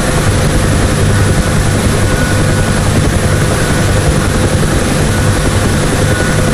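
A UH-1 Huey helicopter hovers in the DCS World flight simulator, its rotor and turbine making a loud, constant, close thudding roar throughout.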